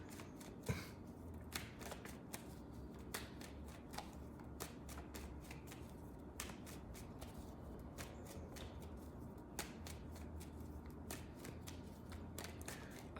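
Tarot cards being shuffled by hand, a quiet, steady stream of riffling and flicking with regular sharp card snaps, close and alone without talk.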